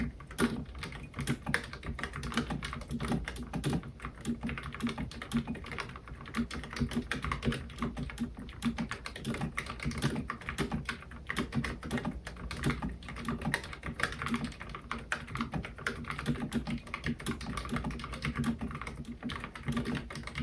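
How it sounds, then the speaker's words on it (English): Fast, continuous typing on a Redragon BS-8772 low-profile mechanical keyboard, a dense run of soft, close clicks with little thock, steady for the whole stretch without speech. "It might be a little silly doing a sound test for this keyboard because it definitely doesn't thwack"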